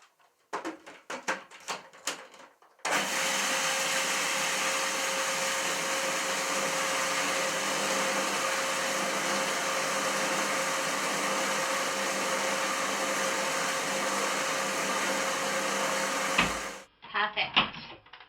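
A blender whirs loudly and steadily for about fourteen seconds, blending coconut cream into a filling for a raw Christmas cake, with brief handling clatter before and after.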